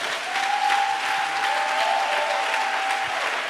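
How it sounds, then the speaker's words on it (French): Steady applause from a church congregation acclaiming the Lord, a dense even wash of clapping that holds for several seconds, with a faint sustained tone running underneath. "On va bien acclamer le Seigneur d'abord."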